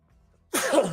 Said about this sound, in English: Bless me, sneezing.